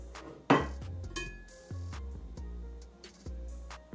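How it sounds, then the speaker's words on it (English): Shrimp dropped into a metal cooking pot in a home kitchen, a sharp clattering hit followed by several lighter ringing clinks and knocks of food and metal, close and fairly quiet. "take your shrimp, put it in your pot because you want to steam it"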